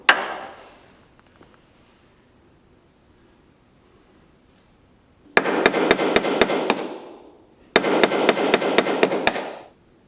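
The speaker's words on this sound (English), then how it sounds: "We were trying to get this part pounded off" Two rapid bursts of sharp metallic hammer blows ring out against a rear axle part being pounded off, each run of strikes close and loud, following a single heavy knock and a long quiet stretch.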